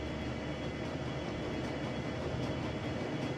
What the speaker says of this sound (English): I'm boarding the train.